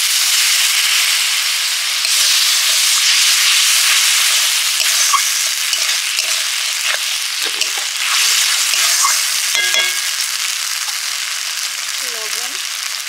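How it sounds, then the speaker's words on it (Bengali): Spice paste with red chili powder and water fries in a pan for aloo dum, a loud, continuous hissing sizzle close by, with scattered stirring scrapes throughout. "একটু জল দিয়ে মশলাটা কষে নেব।"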